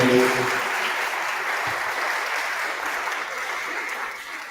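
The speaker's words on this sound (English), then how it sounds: "Give them another round of applause for those." An audience applauds at the close of an evening event on conservative climate solutions, a broad sustained ovation that opens with a brief voice and then fades gradually toward the end.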